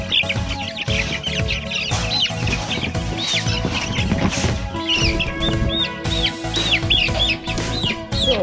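Young chickens cluck and chirp continuously at close range, with busy overlapping calls filling the whole stretch and no talking.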